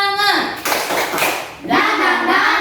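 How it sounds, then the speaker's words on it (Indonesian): A school class in Indonesia does a patterned spirit clap, several quick rhythmic bursts of hand claps from close by. The clapping alternates with children's voices. "Tepuk semangat dulu ya. Tepuk semangat."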